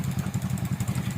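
A motorcycle engine runs steadily up close, a low rhythmic throbbing with light clatter on top, heard alone without voices.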